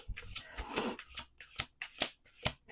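Tarot cards being shuffled, a dense riffling burst followed by a series of sharp, separate card snaps and slaps at a steady pace, close and clear with no voices.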